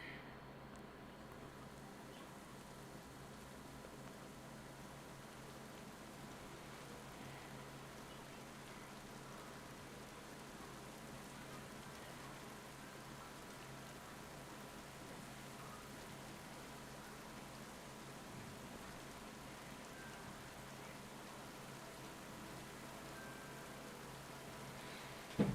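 Steady rain falls in a forest in a video game, a soft, even hiss of drops lasting the whole stretch with no break or change in level.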